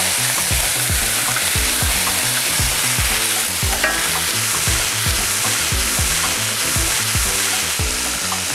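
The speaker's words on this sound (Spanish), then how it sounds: "Vamos a revolver un poco, ¿eh?" Beef steaks frying in a pan and being stirred. Loud, close, constant sizzle with a regular run of scraping stir strokes, with no one talking over it.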